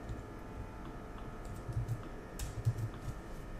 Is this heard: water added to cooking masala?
no